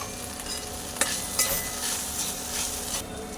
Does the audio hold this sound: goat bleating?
no